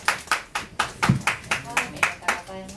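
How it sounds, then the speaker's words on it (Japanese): A small audience claps in welcome for an acoustic singer at a live show in a Kyoto venue, a steady run of about a dozen distinct, fairly close hand claps, moderately loud and evenly spaced. "それでは拍手でお迎えください"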